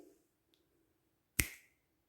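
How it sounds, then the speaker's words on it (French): A single sharp finger snap rings out alone, crisp and close, after a moment of near silence, with a short fading tail. "D'un claquement de doigts"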